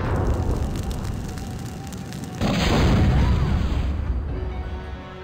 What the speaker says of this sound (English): Preparing a little bit of fireworks, because that ember we picked up we can use on the rum.